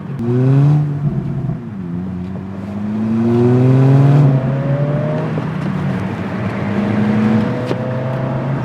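Heard from outside, an Acura Integra A-Spec with a turbocharged inline-four revs loudly several times, its pitch climbing and falling in smooth sweeps close by.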